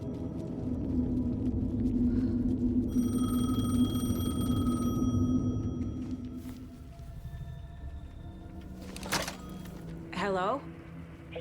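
Payphone ringing in the video game Alan Wake 2, an electronic ring heard over a low ambient rumble, then fading as the rumble subsides, followed by brief clicks and a short voiced sound.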